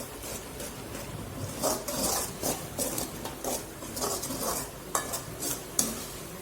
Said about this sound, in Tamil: இதையும் சேர்த்து நல்லா வதக்கி விட்டுக்கலாம்.